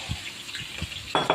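Eggs go into a pan of sizzling spice masala, with a few soft scrapes and taps before a louder burst of close frying sizzle near the end.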